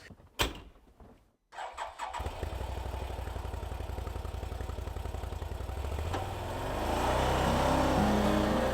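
A Can-Am Defender HD10 side-by-side starts up after a few clicks and cranks, then its engine settles into a steady, loud mid-pitched drone that rises near the end as it pushes through deep snow; no talking.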